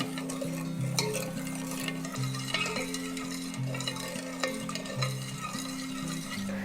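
A spoon stirs sugar syrup in a pan on a lit stove, giving repeated scraping and clicking strokes at close range, with steady background music playing underneath.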